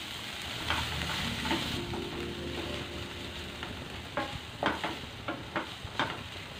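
Chopped vegetables for crispy corn fry in a hot pan with a steady, close sizzle, and a spoon scrapes and stirs in quick scratchy strokes toward the end.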